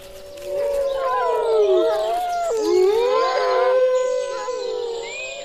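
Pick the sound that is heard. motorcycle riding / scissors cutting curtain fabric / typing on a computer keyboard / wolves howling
wolves howling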